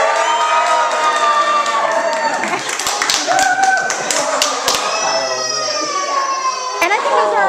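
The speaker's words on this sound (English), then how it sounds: "Those who think it is a boy, cheer." Party guests at a baby gender reveal cheer for a boy, a loud, sustained crowd roar with whoops and scattered claps lasting throughout, voices overlapping near and far.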